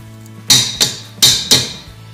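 A metal mixer paddle coated in cake donut batter is whacked against a bowl or counter to shake the batter off, giving four sharp, close metallic knocks in quick succession over a steady low hum.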